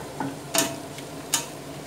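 Onions frying in a pan after chicken, stirred with a few distinct scraping clinks over a steady soft sizzle.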